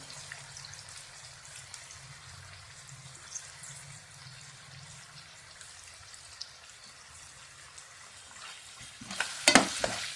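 Mashed, peeled tomato frying in oil in a pan for mutton keema curry, a soft steady sizzle close by, ending with a few louder crackles and spatters.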